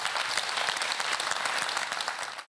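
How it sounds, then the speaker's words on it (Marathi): Audience applause at a Marathi television comedy show studio, loud, dense clapping sustained throughout and cutting off abruptly at the end. "एकदा जोरदार टाळ्या झाला पाहिजे"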